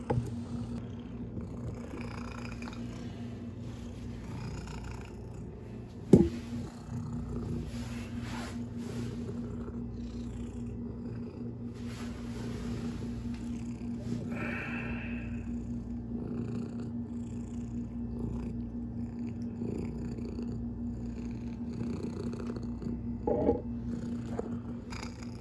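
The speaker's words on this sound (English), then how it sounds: "Do the old cat test here, see if she" A cat purrs steadily and close up while tasting chum salmon from a Puget Sound catch, a low continuous rumble with one sharp knock partway through and faint background noise.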